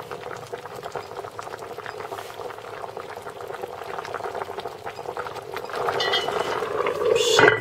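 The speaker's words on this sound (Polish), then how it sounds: "I teraz jeszcze zalewam to wszystko troszeczkę wody, 300 ml." A pot of food on the stove after about 300 ml of water has been poured in, bubbling at a steady boil. The bubbling is loud and close, growing busier and louder toward the end.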